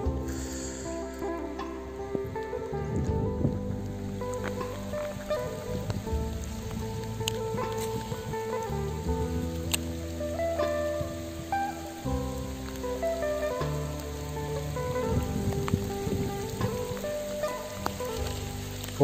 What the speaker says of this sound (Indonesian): Oke mas bro, hujan lebat.